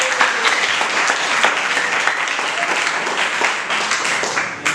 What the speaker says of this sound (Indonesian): kasih aplaus lagi